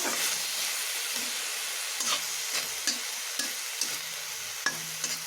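Fenugreek greens and eggplant simmering in their own released water in a pan, a soft steady sizzle and hiss with several light scraping stirs and taps of a utensil against the pan.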